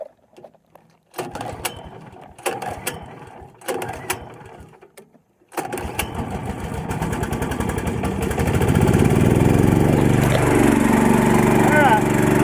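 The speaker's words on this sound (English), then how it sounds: "Alright, there's the little tractor running." A small tractor fitted with a Harbor Freight 420cc engine starts after a few short bursts and settles into a steady, loud, continuous running drone. Speech is heard over the first seconds.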